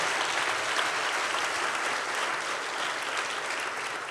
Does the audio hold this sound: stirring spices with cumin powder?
no